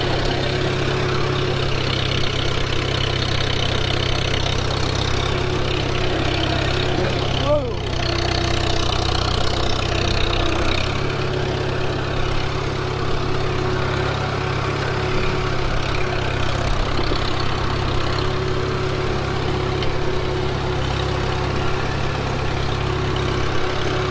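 A Farmall M tractor with worn steering runs at a steady idle, its low engine drone holding an even pace throughout with a brief disturbance partway through.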